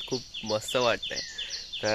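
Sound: birds chirping on a Konkan village morning

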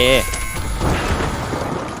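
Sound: explosion in a video game

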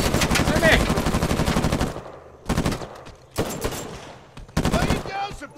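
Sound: suppressive machine gun fire in Uncharted 4 video game

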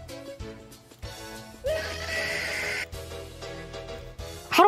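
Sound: loud screech sound effect being played

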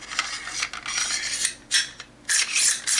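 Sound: inserting bolt carrier group into MK18 upper receiver

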